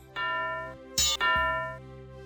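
A bell is rung with its clapper in the Simon the Sorcerer point-and-click adventure game: two loud sustained metallic tones with a sharp clang between them, ringing out and slowly decaying.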